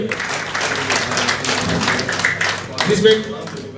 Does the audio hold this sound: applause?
yes